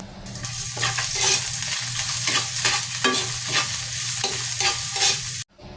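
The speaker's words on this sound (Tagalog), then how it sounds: "Igisa lang natin muna itong bawang hanggang sa lumabas na yung aroma" Garlic sautéing in a hot pan for sardine sinigang, a steady loud sizzle with repeated scraping strokes of a utensil stirring through it, no voices, ending abruptly.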